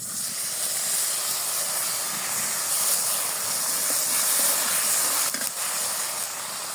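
Water poured into a hot pan with onions and green chillies in a home kitchen sets off a loud, continuous steamy hiss that holds steadily close up with little variation.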